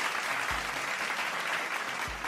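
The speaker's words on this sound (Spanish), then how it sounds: "Aplauso al equipo." Applause for a team after a win on a Spanish-language gaming livestream, a steady dense wash of clapping that fills the whole moment at moderate level.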